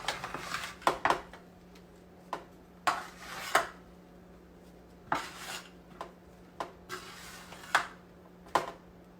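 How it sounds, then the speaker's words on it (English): A baking pan of cornbread is shifted and turned around, with a series of scattered metallic taps, scrapes and clinks, close but fairly soft, spread irregularly over several seconds. "Now I'll put some of these back there so I can turn my pan around."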